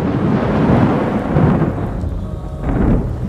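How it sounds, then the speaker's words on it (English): Thunder rumbles through a steady downpour of rain during a storm, loud and close, rolling in several swells over about three seconds, with no voices. "And so it started to rain."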